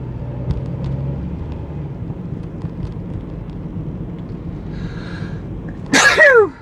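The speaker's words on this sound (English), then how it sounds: "It's sneezing time." After several seconds of quiet background rumble, one loud, sharp sneeze bursts out close by near the end.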